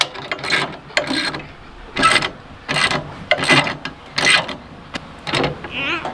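A ratcheting wrench being turned in bursts, with short clicking runs repeating roughly every second, close and fairly loud, with a little background talk.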